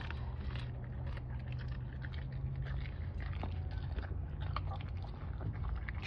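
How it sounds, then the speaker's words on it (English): Doberman crunching and chewing a baby mouse, steady wet munching and biting close by over a constant low background hum, no talk. "Chew Dobie, chew"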